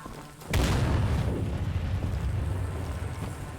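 An explosion in the game Incision hits with a sudden loud boom. A deep rumble follows and rolls on for several seconds, with no talking over it.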